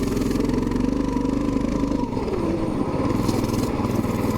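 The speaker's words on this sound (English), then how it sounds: "it wants to spin the tires in the snow, definitely." A Coleman BT200X mini bike engine revs steadily as its tires spin in snow, a loud, continuous, close mechanical drone with no talking.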